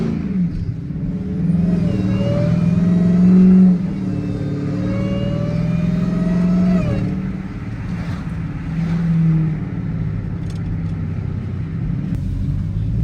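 A Dodge Demon Charger engine revs while driving in a snowstorm, a loud, deep rumble rising in pitch through two long pulls, then easing back to a steady idle-like drone.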